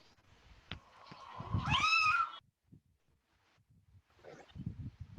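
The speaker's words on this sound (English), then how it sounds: "Did somebody squeeze the cat's throat or something?" A cat gives one loud, strained, drawn-out meow mid-clip, close and rising in pitch, with rustling and light handling noise before it and faint shuffling afterward.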